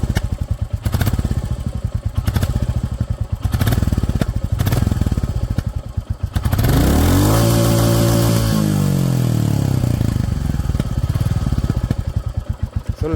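A Royal Enfield Classic 350 motorcycle idles close up with a steady, rhythmic thumping beat, swelling briefly midway before settling back into the loud, continuous idle.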